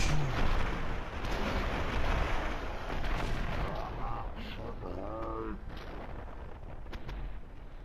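Bazooka blasts and gunfire from Beggar's Bazooka soldiers in a shooter video game, a dense continuous rumble of explosions and shots, with voices talking over it.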